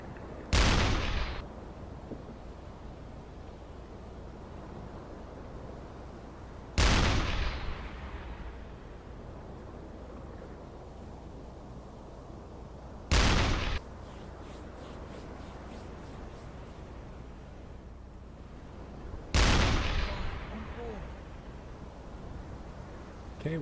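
Deck gun on a U-boat in a submarine video game firing shells at a ship, four heavy booming shots spaced roughly six seconds apart over a low rumbling background.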